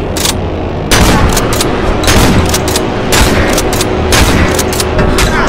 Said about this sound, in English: He's tearing up a lot of bullets!